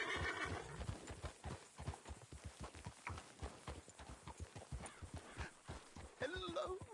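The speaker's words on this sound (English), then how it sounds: "You got a problem with that horse?" Horse hooves clop in a rapid, steady rhythm throughout, with a close, loud neigh near the end, in the video game Red Dead Redemption 2.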